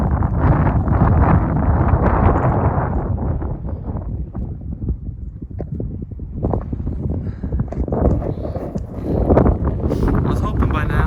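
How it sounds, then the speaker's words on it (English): Strong gusty wind buffets a camper van at the edge of a campsite, a loud continuous roar with rushing surges and microphone rumble that rises and falls over the whole stretch. "Being outside was pretty much just horrible with that wind."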